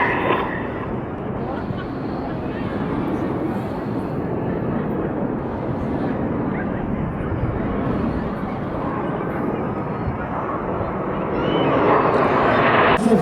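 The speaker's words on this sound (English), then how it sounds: "And in celebration to our first aircraft, coming in from the right, this is Enid in Nat." Red Arrows jet aircraft sweep in from the right at a coastal air display in Portsoy, a broad continuous roar that builds toward the end, with a commentator speaking over it.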